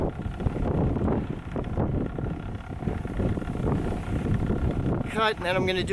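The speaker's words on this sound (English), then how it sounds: "Actually, I think it is gonna be too windy." Strong gusty wind buffets the microphone throughout with a dense low rumble, and a voice talks faintly underneath; a brief whine rises near the end.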